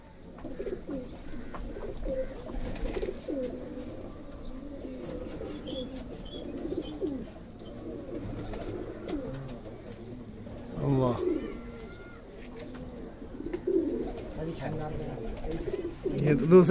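Pigeons coo in low, repeated throaty burbles, several flying pigeons close by, with a voice talking over them at times.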